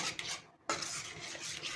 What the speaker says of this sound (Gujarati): દૂધ નાખ્યા પછી આ રીતે આપણે શીરાને હલાવવાનો છે